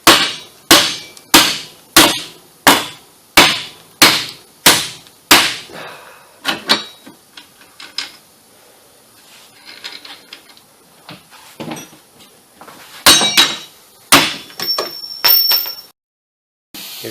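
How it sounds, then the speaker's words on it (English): Sharp metal hammer strikes on the strut nuts of a 1997-2005 Buick Century, about eight evenly spaced loud blows, then quieter clinks and shuffling before a few more hits. "That way I can try to hammer on these pretty good."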